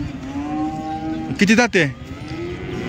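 A cow lows at a cattle market, one loud moo swelling and breaking off partway through, surrounded by the murmur and chatter of people talking and bargaining.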